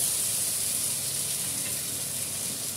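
Potato and pointed gourd curry with cumin powder sizzles in a pan, a loud, continuous, even frying hiss close by without pause; no voices.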